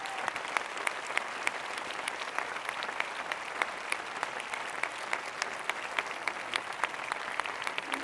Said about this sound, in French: je voudrais qu'on les applaudisse et qu'on les remercie